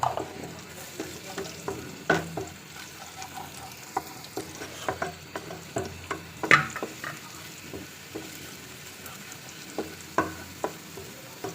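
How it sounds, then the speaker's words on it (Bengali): Garlic, onion and cumin fry in hot oil as a tempering for a coconut chicken curry, with a steady close sizzle broken by frequent sharp crackles and pops. No voices are heard. "এখানে আমি রসুন পেঁয়াজ এবং একটু জিরা দিয়ে এটা আমি ফোড়ন দিব"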